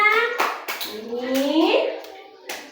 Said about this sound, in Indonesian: kita tepuk tangan untuk Zaina